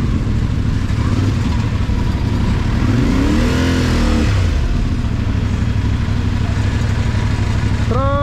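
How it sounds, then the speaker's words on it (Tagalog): Road traffic in Pasig City, with cars and motorcycles making a steady, loud engine rumble throughout, one vehicle swelling and revving past midway, and a brief higher tone at the very end. "Traffic!"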